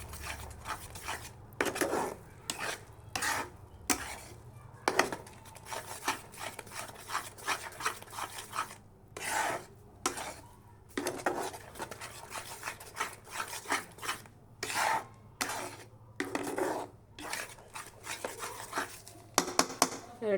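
Dried chilli mash being stirred and scraped in a kadai, repeated rasping strokes in an uneven rhythm, quiet and close, with no talk.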